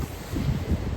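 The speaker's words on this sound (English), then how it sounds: "It's a very windy day." Wind buffets the microphone on a very windy day in Newtown, a steady low rumbling gust that swells and eases over a brief second with no voices.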